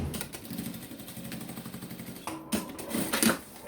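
A sewing machine topstitches along the seam of a clear plastic pouch, a faint rapid stitching chatter in short bursts with brief pauses between runs, heard close up.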